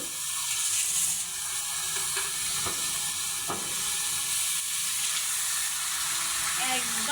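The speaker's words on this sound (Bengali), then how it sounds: "আমি এখন হচ্ছে মাংসটা দিয়ে দেবো" Fresh meat goes into hot oil with frying onion and spice masala, setting off a loud, dense, steady sizzle and hiss that fills the whole stretch, with a couple of faint clinks and a spoon scrape near the end.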